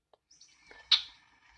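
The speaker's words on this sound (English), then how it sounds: "Oh, I want to play the check calls. They say "keck keck keck keck keck" as they're flying." Recorded check call of a red-winged blackbird playing back, a single sharp, clipped note standing out after a few faint thin chirps, fairly quiet against near silence.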